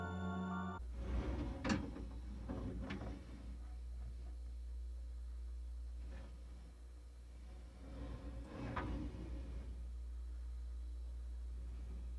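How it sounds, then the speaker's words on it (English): A wooden drawer is repeatedly opened and closed inside a cabinet, giving several sharp knocks and sliding thumps spaced a few seconds apart over a steady low rumble. "I repeatedly opened and closed the drawer to create the following effect"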